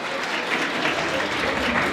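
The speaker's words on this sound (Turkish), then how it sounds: "Kocaman birinci alkış." An audience at a regional food competition in Van claps in dense, sustained applause, a steady loud wash of many hands with crowd murmur mixed in.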